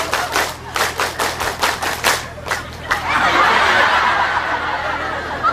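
A seated group of women at a community gathering performs the Indonesian scout clap pattern, a run of crisp rhythmic claps in counted bursts, then breaks into loose scattered clapping and laughter under a noisy hall ambience.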